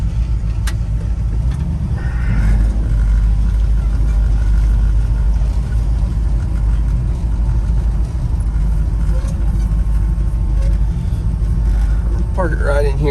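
A 1964 Chevy C10 pickup, off the road for seven years, rumbles steadily at low speed while pulling into a parking spot, its engine drone continuous and fairly loud with a person talking over it.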